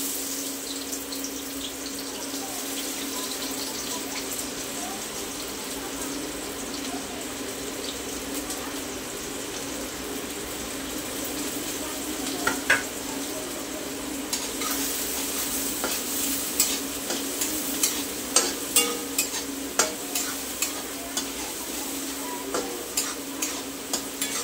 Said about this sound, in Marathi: मी कांदे टाकून घेते